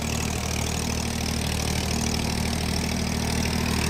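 A Massey single-clutch tractor fitted with a rotavator idles with a steady, even engine drone and low rhythmic throb, close and continuous with no talk.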